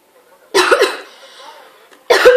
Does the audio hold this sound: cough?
yes